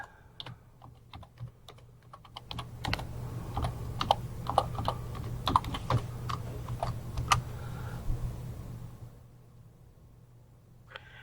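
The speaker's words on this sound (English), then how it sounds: "type in my term again" Someone types a search term on a computer keyboard in quick, uneven bursts of crisp clicks, close up over a faint steady hum, with a few slower keystrokes before the typing ends.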